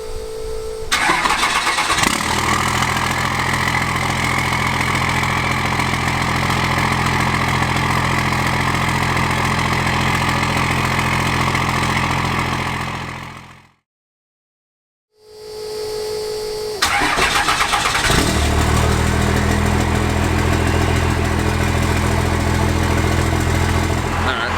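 A Duramax diesel truck engine cranks and catches, then settles into a loud, steady idle nearby. It briefly drops out before the same deep idle resumes.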